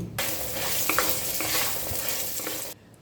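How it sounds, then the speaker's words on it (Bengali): A handful of lentil dumplings (bori) fry in hot mustard oil in a wok, a loud, steady close-up sizzle with a few stirring clinks, starting abruptly and cutting off just before the end. "এর মধ্যে প্রথমেই এক মুঠো বড়ি ভেজে নিচ্ছি"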